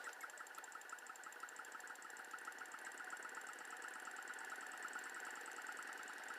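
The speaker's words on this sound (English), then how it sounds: "And this is a Newman motor." Newman motor running off a capacitor: a faint, steady whirring hum with a fast regular pulsing, unbroken for several seconds, with no talk over it.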